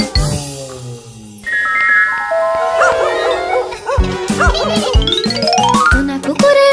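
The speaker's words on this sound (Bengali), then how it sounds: "সোনা কুকুরের বাইরে আসার অপেক্ষা করছিল, ঘেউ ঘেউ শব্দ করে কুকুরকে তাড়া করছিল।" Cartoon dog barking amid bright tinkling cartoon music and sound effects, a run of sharp close barks in the second half over sliding musical tones.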